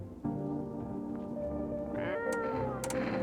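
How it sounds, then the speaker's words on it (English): Cat in the video game No, I'm not a Human gives a steady, close meowing call that rises near the end over a few faint clicks, with no talking. "Feed it canned cat food."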